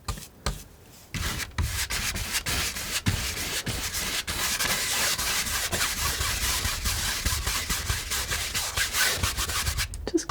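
A palette knife scrubs paint across canvas in a desert cactus painting, making close, continuous scratchy rasping strokes that run almost unbroken for about nine seconds after a few brief opening scrapes.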